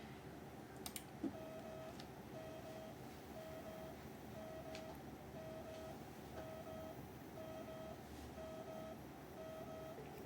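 A stepper motor on a Voron 0.2 3D printer runs a buzz test. Faint, short buzzing pulses repeat at a steady rhythm of about one per second over a quiet room hum.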